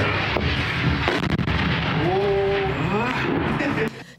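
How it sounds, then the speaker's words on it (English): Artillery fire and gun battles at the front line near a village in the Kharkiv region, a heavy booming roar with sharp bursts and rolling echoes, while voices talk over it before it suddenly drops away. "you can hear gun battles all the time"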